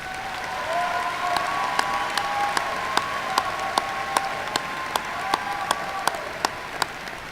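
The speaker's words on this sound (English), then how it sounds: "let's give Lauren a warm round of applause" A commencement ceremony audience applauds an undergraduate graduate, a soft, steady patter of clapping with a few sharper individual claps standing out, some distance away.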